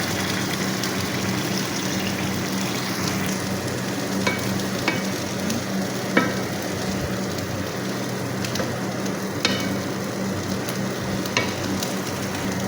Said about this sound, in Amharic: አሁን ትንሽ ውሃ እናደርግበትና አብሮ ይብላላ።